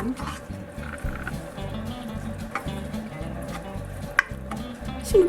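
Green onions go into hot olive oil in a pan, a soft steady frying sizzle with stirring and clinks of a utensil, fairly quiet and continuous under background noise.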